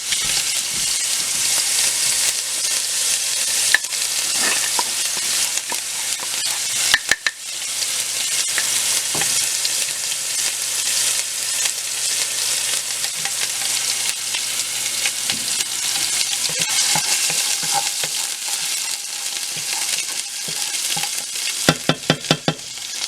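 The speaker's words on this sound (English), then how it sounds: "So we're gonna let this fry up a little" Corn mutton fries in a pot over medium heat with a dense, loud, unbroken sizzle and crackle, joined now and then by sharp clicks and scrapes of stirring nearby.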